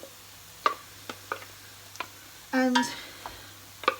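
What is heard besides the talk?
stirring butternut squash pasta mix with wooden spoon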